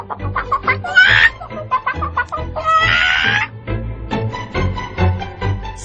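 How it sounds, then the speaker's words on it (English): A hen clucks in a run of short, loud clucks close by, broken by two longer squawking calls, with light talk in between. "Oh, it's a chicken."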